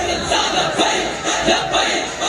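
A large rally crowd loudly chants "Labbaik" in unison at a political gathering, with rhythmic surges of many voices filling the whole stretch and no single speaker standing out.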